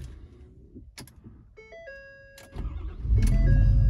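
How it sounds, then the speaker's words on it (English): A 2016 Ford Super Duty F-450 pickup sits quiet under chiming dash alerts, then its engine cranks and catches near the end, settling into a loud, deep idle. "Let's fire this truck up."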